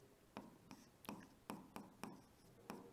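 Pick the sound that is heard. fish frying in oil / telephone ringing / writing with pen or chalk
writing with pen or chalk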